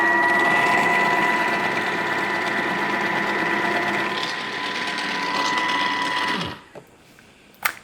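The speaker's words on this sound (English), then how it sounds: "pop the cucumber in to the chute and turn to speed 4" A Thermomix spiralizer cuts a cucumber at speed 4, giving a steady, loud mechanical whir with a constant motor hum for about six seconds before it stops abruptly, followed by a few small clicks.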